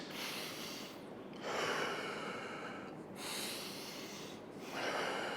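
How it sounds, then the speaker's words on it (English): Deep breaths drawn in through the nose and let out through the mouth, three slow full cycles of airy inhales and exhales, close and quiet with nothing else around. "In through the nose, out through the mouth."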